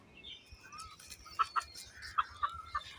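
Chickens near a cow in a rural yard give several short, faint clucks in an uneven sequence against a quiet background.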